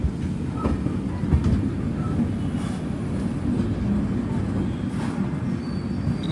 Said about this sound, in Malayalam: ട്രെയിൻ ഇപ്പോൾ രാജമഹേന്ദ്രവരത്തേക്ക് ഇതാ എത്തുകയാണ്